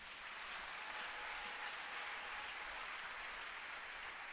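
A church congregation applauds the Lord in steady, dense clapping, a continuous wash of hands that holds at an even, moderate level from start to end with no voices rising above it.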